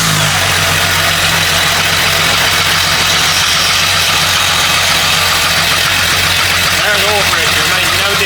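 A 4.0 engine running after a cold start on pure Lucas oil additive, with a steady, loud idle and a rough ticking knock layered through it, heard up close.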